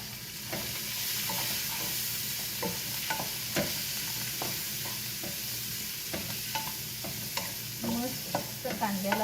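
Onion and green chillies fry in a pan, a continuous sizzle close up with regular scraping stirs of a spoon and small popping spatters toward the end.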